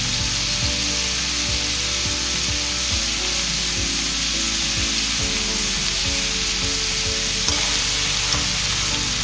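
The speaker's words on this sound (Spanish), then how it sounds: "Lo vamos a ir mezclando muy bien. Y todo esto ya lo podemos hacer a temperatura alta para que se vaya cocinando" Pork fajitas with colourful peppers sizzling loudly in a hot pan while a utensil scrapes and stirs them in a regular rhythm, close up and continuous with no talking.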